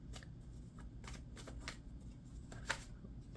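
Tarot cards shuffled by hand in a quiet room, a rapid run of soft papery riffles and flutters with one sharper snap near the end, close and fairly faint.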